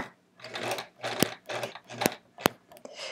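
A sewing machine stitches in short bursts during free motion quilting, its needle whirring in quick pulses broken by brief pauses and a few sharp clicks, close and fairly quiet.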